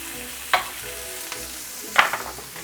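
Thick steak frying in butter in a pan, with a steady low sizzle and two sharper crackling spurts as the meat is moved or more butter goes in, close and fairly quiet with no talk.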